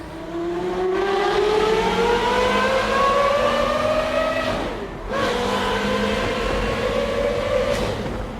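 A Porsche 962 race car engine and exhaust roar loud and close. The engine climbs steadily in pitch, drops briefly at a gear change midway, then pulls up again.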